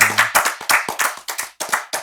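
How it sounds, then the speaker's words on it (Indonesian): An audience claps steadily in a warm room, a brisk run of distinct hand claps that carries on without pause, fairly close and clear, with no voices over it. "Tepuk tangan dulu ya."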